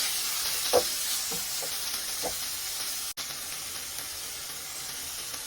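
Beef with ampalaya (bitter melon) and pepper stirred in a hot pan gives a steady, soft sizzle and hiss, broken by a few faint spatula scrapes and taps.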